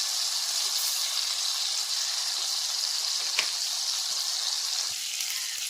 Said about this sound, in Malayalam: നമ്മുടെ കടുക് പൊട്ടിത്തുടങ്ങുമ്പോൾ